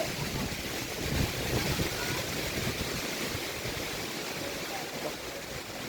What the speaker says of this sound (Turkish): Rüzgara bir bakınız rüzgara